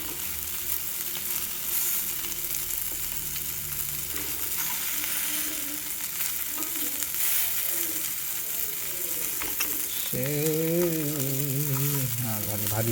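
Prawns sizzle steadily in a frying pan, a constant crackling hiss, while a voice speaks over it and music plays in the background.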